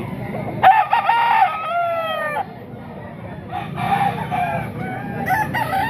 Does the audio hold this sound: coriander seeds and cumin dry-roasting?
no